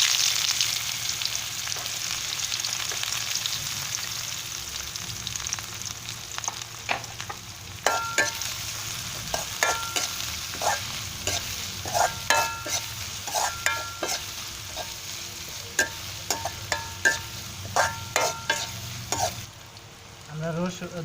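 Chopped onion frying with cumin seeds in a pan, a steady close sizzle broken by repeated sharp clicks and scrapes of a spoon stirring against the metal, continuing throughout with no talking.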